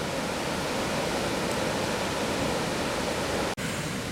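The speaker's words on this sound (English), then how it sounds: "Look at the waterfalls there." A steady, dense rush of falling water roars continuously, loud and close, with no voices, from a waterfall on a country walk in England's Lake District.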